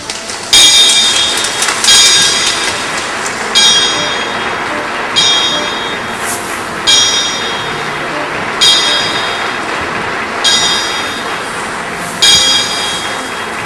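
A ship's bell struck in paired double strikes, ringing out eight bells with bright metallic tones that linger between pairs, at a Moby Dick reading marathon.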